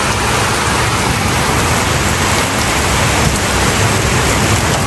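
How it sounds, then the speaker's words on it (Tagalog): Heavy rain pours down steadily and loud, a dense unbroken wash of close noise with no voices, heard while sheltering from a sudden downpour during a motorbike trip. "Lalo pa pong lumakas ang ulan."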